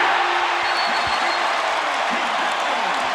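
A basketball arena crowd during a 2011 NBA playoff game roars in a steady, broad wash of cheering and applause after a timeout is called, sustained and loud without clear breaks.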